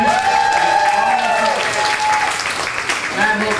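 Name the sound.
audience applause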